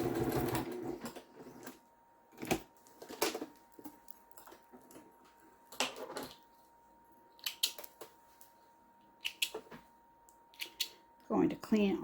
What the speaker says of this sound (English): Sew it from this side.